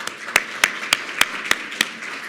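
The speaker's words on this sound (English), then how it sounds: "Please give yourselves a round of applause." Audience applause at a medical school address, with a close, steady run of six evenly spaced claps standing out over a soft wash of clapping from the room.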